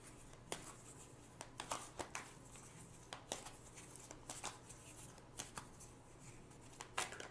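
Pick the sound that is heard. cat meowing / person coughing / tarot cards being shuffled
tarot cards being shuffled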